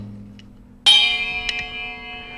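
A cymbal struck once to ring like a bell, a sharp bright hit followed by a long shimmering decay, with a couple of lighter taps as it fades; quiet room before the strike.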